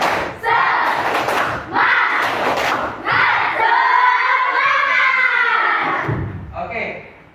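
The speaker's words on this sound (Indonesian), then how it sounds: "kita tepuk semangat lagi" A group at an Indonesian classroom or training session performs a tepuk semangat spirit clap chant: loud bursts of clapping in a rhythmic pattern, then voices chanting together in unison, close and energetic.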